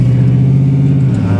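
A 1989 Chevy Blazer K5 idles with a loud, steady exhaust rumble, its low engine drone continuous and close throughout with no talking.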